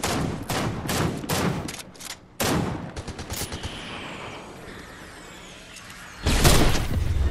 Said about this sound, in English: I just sniped him in the head.